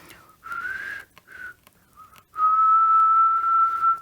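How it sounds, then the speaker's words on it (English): A lone whistled tone made by blowing out, starting with short wavering bursts and then settling into one long, steady, loud pitch near the end. "That's me blowing out, trying to whistle."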